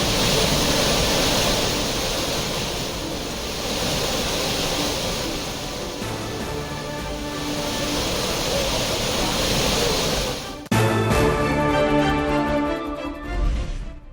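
Courtallam main falls in flood after continuous rain sends down a constant, loud rushing roar of heavy water. A sudden change near the end brings in brighter tonal sounds over the noise.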